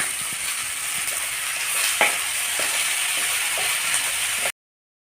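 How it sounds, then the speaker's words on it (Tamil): Snake gourd seeds are sautéed with tomato and onion in a pan, giving a steady, close sizzling hiss with a few faint stirring knocks, which then stops abruptly. "இந்த சமயத்தில் நம்ம எடுத்து வச்ச பொடலங்காய் விதையை அதில் சேர்த்து நல்லா வணக்கிடலாம்"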